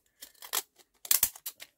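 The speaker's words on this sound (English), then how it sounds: "I'm going to get a pair of fancy edge scissors." Fancy edge scissors cut through a card for botanical mixed media journaling, giving several short crisp snips in two quick bursts, close and clear with no talking.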